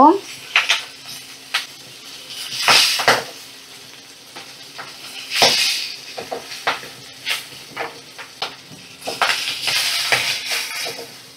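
Fish frying and spattering in hot oil in a home kitchen: bursts of crackling hiss rise and fall, with utensil scrapes and clinks over the sizzle, close and fairly loud, and no talking.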